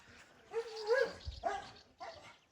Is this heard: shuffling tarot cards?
no